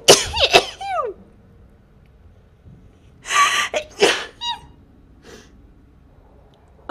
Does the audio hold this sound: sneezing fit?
yes